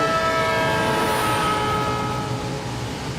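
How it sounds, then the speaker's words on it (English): A loud train recedes with a sustained whistle tone dropping in pitch over rumbling wheels, fading slightly toward the end. "you hear the pitch of the whistle get lower and lower in frequency"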